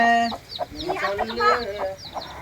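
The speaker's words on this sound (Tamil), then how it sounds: "கருப்பி கருப்பி எத்தனை குஞ்சு நீ பொறிச்ச" A hen clucks in short, repeated bursts at close range, with a few higher calls mixed in, in a farmyard setting where the hen has just hatched chicks.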